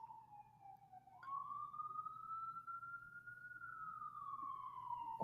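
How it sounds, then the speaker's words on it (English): An emergency vehicle siren outside, heard as one long, steady tone that rises slowly and then falls, faint and distant over a low indoor hum. "I know you guys hear this siren outside."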